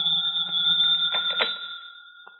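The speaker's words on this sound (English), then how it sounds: "you get a phone call." An old-time telephone rings as a radio drama sound effect, a steady electric bell tone with faint clicks under it, sounding alone and fading toward the end.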